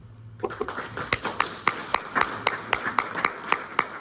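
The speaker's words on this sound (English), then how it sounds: "Everybody give her a round of applause." Seminar audience applauding a prize winner, a modest crowd whose close, distinct handclaps tap out an uneven rhythm.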